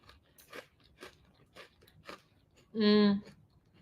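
Chewing a crunchy cookie, less buttery than a regular one, with repeated crisp crunches in a steady rhythm, close up, followed by a brief loud vocal sound.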